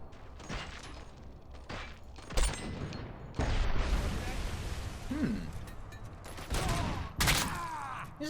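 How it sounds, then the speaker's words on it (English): Bursts of gunfire in the shooter RoboCop: Rogue City, sharp loud volleys arriving in irregular clusters with mechanical clatter between, some close and heavy, while a voice speaks intermittently. "This is not ideal for shooting at fleshlings."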